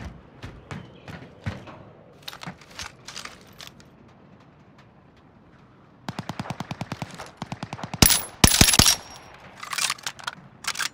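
Gunfire from the video game Call of Duty: Modern Warfare: scattered single shots, then a rapid automatic burst, then a sharp, loud volley near the end, with no talking.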